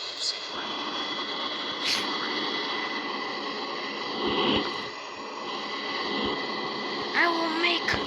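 An airplane engine in a flight video game drones as a steady, even hum throughout, with a player talking faintly over it at times.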